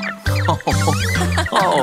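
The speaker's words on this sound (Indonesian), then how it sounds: "Mereka bilang kuek, kuek, kuek, kuek." In a children's animal-sounds song, ducks quack in a run of sung, voiced notes over music, loud and rhythmic.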